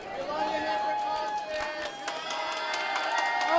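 An awards-show audience cheers and claps for a nominee, a steady, dense crowd roar with shouts that holds for several seconds while a voice speaks over it.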